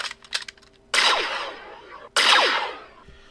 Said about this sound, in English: Kyle shot him dead with his briar pistol.